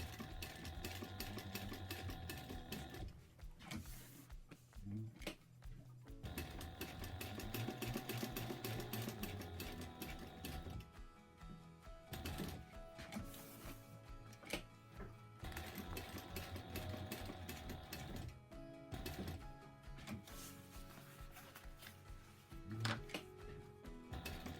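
A sewing machine stitches a fabric sling in long continuous runs, stopping briefly a few times before starting again, close and fairly steady.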